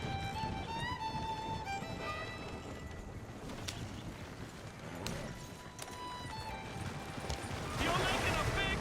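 Horse hooves clip-clop steadily as a horse-drawn wagon rolls along in Red Dead Redemption 2, set under ongoing talk and a musical bed, with a brief louder burst of noise near the end.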